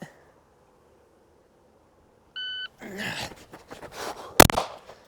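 A shot timer buzzer gives one short, sharp electronic beep after a quiet pause, followed by scuffling movement and a single loud gunshot as a shooter exits on the signal.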